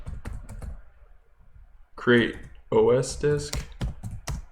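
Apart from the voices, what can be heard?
typing on a computer keyboard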